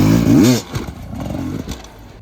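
A dirt bike engine snaps open with a short, loud throttle burst to lift the front wheel over a log, then falls back to a rougher, quieter running note with some clatter, all in under three seconds.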